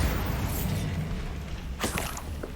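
A Bombarda spell explodes in Hogwarts Legacy: a muffled low boom within a steady rumbling background, followed by a brighter crackling burst with scattered debris-like snaps toward the end.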